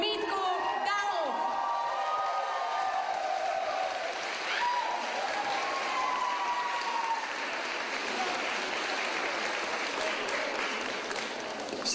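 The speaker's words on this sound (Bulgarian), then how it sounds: "А сега искам да чуя наистина много бурни аплодисменти за Митко Дамов!" A credits-show audience bursts into sustained, loud applause with cheering and whoops for a honoree, steady clapping filling the whole stretch with voices shouting over it.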